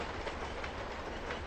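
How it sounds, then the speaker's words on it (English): A train passes in a railway simulator game on the New York Central Boston–Albany route, producing a continuous, fairly close rolling rumble with a faint clatter and no voices. "I hear another train."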